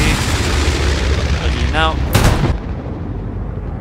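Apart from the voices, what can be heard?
artillery rounds firing in Hell Let Loose video game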